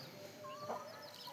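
Chickens brought for sale on a farm give a faint, brief cluck or two against a quiet background.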